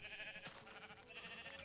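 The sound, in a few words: sheep bleating in Minecraft (video game)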